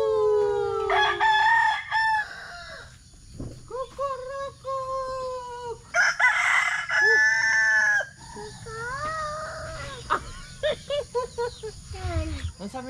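A rooster crows repeatedly at six in the morning near a boat landing, its loud harmonic calls rising and falling across the clip, with people talking in between the crows.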